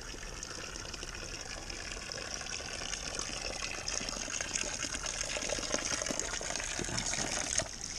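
Water from a mountain source on the Mt. Pulag trail near the mossy forest is being collected, a soft, steady gushing pour that runs continuously and stays faint.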